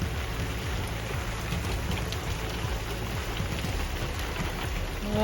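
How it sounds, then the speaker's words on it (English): Steady rain from the outer bands of Hurricane Milton pours down continuously on surfaces nearby, a dense hiss with a low rumbling undertone that swells slightly toward the end. "the rain has picked up a little bit more"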